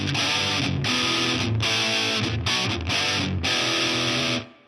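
Electric guitar power chords are played through a heavy distortion effect: loud, thick sustained chords struck in several bursts with brief gaps, then cut off at the end.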